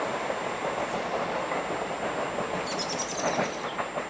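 Class 334 train, unit 334017, passing at Jordanhill station: a steady loud rumble of wheels and carriages rolling close by, with rhythmic clatter and a faint high squeal building toward the end, no voices.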